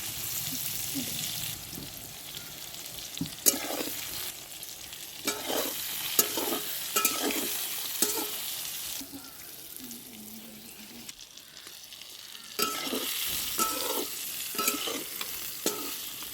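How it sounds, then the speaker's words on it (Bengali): Pointed gourd frying in mustard oil with salt and turmeric, giving a steady close sizzle broken by repeated stirring scrapes, with a quieter lull midway before the hiss swells again. "কড়াই গরম হয়ে গেলে সর্ষের তেল দিয়ে পটলটা লবণ হলুদ দিয়ে ভেজে নেব"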